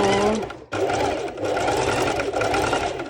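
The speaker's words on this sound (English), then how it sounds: "I will be doing a straight stitch" A sewing machine runs a steady straight stitch along a bikini top strap with ruffles, its close, continuous whirring motor hum broken by one brief pause near the start.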